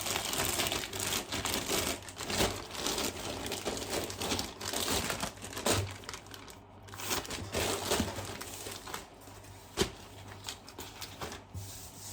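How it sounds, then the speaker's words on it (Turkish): A plastic bag crinkles and rustles continuously as eggs are bagged in a home kitchen, close and fairly quiet, with a few sharper crackles. "yumurtalarımı böyle poşete alayım."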